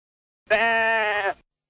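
A single sheep gives one loud, clear, sustained bleat that lasts about a second and stands alone against silence, with no talking.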